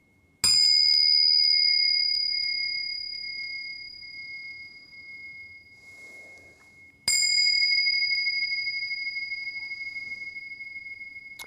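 A sound healing instrument rings out in two separate strikes, each a bright sustained tone with a wavering vibrato that slowly decays, alone with no talking.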